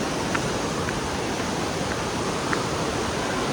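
Steady, dense roar of a waterfall at Anguthi Sunai, a broad continuous wash of falling water filling the whole clip at an even, close level with no voices.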